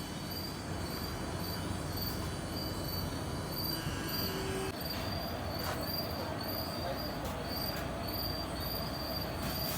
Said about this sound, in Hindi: निकल चुकी है अपनी मसूरी एक्सप्रेस 1 नंबर प्लेटफॉर्म से